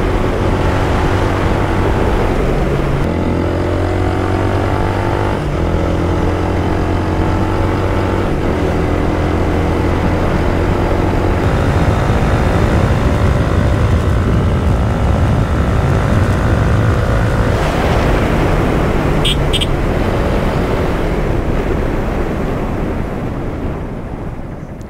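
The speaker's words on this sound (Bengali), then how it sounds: "এক্সজস্ট সাউন্ড ভাই, সিঙ্গেল সিলিন্ডারের এত সুইট সাউন্ড" A single-cylinder motorcycle exhaust rumbles steadily nearby for the whole stretch, a low droning engine note mixed with broad wind and road noise on a freshly rain-wet street.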